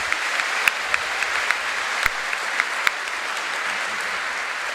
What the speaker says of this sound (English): Can we get one last round of applause for all these people here?